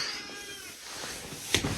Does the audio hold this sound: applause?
no